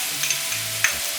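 Ginger garlic paste hitting a hot pan of cooked tomato and chicken, a brief close sizzle with a couple of sharp spoon clicks, no voices.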